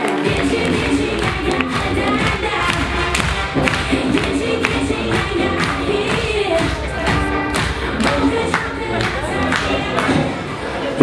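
A stand-up comedy club audience in Lviv claps steadily and densely as a comedian takes the stage, with scattered thumps and some crowd noise running through the applause.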